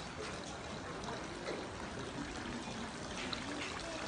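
Water poured for hand washing at the temple fountain in Asakusa, Tokyo, a continuous splashing trickle close by, steady and fairly loud against a busy outdoor background.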